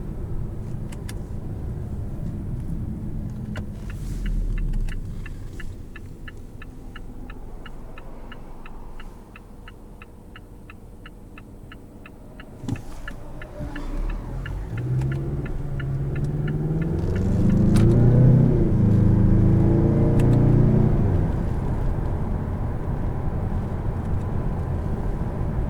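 A 2018 Mazda6 Turbo engine heard from inside the cabin, a low rumble that rises and falls with throttle blips on paddle-shift downshifts and swells into a stronger rev toward the end, alongside a faint ticking indicator.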